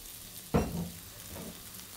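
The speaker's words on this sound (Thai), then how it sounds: "ผัดคลุกเคล้าต่อค่ะให้ทุกอย่างเข้ากันค่ะ" Instant noodles stir-fried in a pan with oyster sauce and sugar: one sharp, close toss-and-sizzle burst that fades, followed by a softer second scrape over a low, quiet sizzle.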